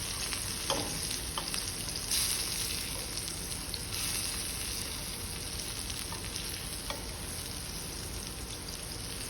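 Zucchini pieces sauté in a hot pan, browning to a golden color, with a continuous close crackling sizzle like light rain and occasional faint clicks of stirring.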